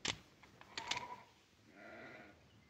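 A single sheep bleats faintly in a TV western scene, a short wavering call near the end following a few brief knocks and creaks, distant and quiet.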